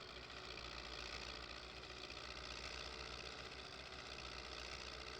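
MTZ-82 tractor engine in Farming Simulator 19, a steady droning idle with a low rumbling throb, continuous and even throughout with no talk.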